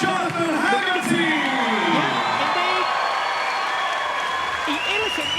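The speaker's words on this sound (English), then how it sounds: "ladies and gentlemen, a massive round of applause from Jonathan Haggerty" A Muay Thai fight crowd at a YOKKAO event applauds and cheers for English fighter Jonathan Haggerty, a steady roar of clapping with whoops and shouting voices riding over it the whole time.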